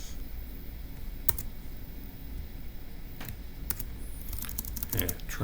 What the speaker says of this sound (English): So let's go ahead and type that up in our notes.